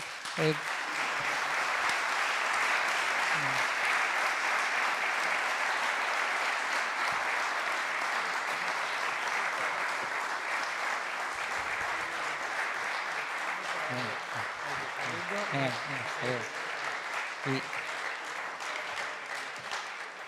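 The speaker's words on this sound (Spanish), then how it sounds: "yo creo que Javier merece un gran aplauso" Sustained audience applause at a political event in Spain, a dense even roar of clapping from a large crowd that holds for about twenty seconds, with scattered voices rising briefly toward the end.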